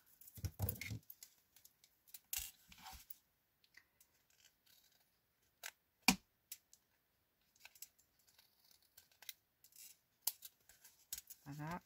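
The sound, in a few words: scissors cutting paper for a craft booklet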